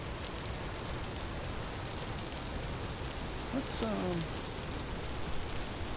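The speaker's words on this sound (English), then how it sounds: "I hope it's not raining the whole way there." Steady rain in the video game Vintage Story hisses as a dense, even wash throughout, with a voice briefly speaking partway through.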